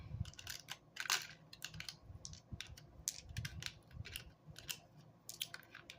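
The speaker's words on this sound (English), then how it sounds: "I have a mini dice tower, so it takes a minute for all of them to get in and get through" Several dice clatter and tick down through a mini dice tower during a dice game, a quiet, irregular series of sharp little clicks and taps over a low background hum.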